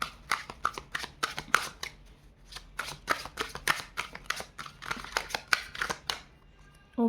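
Tarot cards being riffled and shuffled close up, a quick series of crisp, papery bursts in an uneven rhythm, with no talking.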